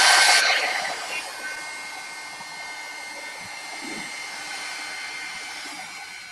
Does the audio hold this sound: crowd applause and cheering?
no